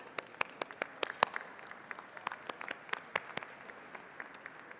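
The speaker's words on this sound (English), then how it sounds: "Please join me in applauding them." Scattered applause in the House chamber for the Taylor Chamber of Commerce's centennial, sharp individual claps standing out over a soft, fairly quiet background patter.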